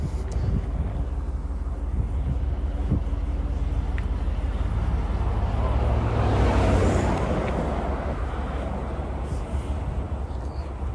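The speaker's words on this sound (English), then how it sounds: "a lot of traffic on a Tuesday." Street traffic flowing past on a Tuesday during an outdoor walk, a continuous rumbling wash of cars that swells as one vehicle passes close around the middle, with wind buffeting the microphone.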